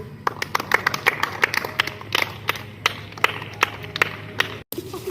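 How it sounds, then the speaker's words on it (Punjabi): Schoolchildren applaud with scattered, uneven hand claps, crisp slaps coming in an irregular patter that thins out toward the end before a brief cut. "ਮਾਰੋ ਵੀ ਤਾੜੀ"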